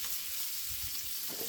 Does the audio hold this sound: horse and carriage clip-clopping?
no